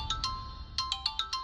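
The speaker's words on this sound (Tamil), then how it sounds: "ஊர்ல இருந்து சேதுபதி ஃபோன் பண்றா." A phone ringtone plays a quick series of bright, evenly spaced electronic tones, a pair followed after a pause by a faster run of five, close and clear in a quiet room.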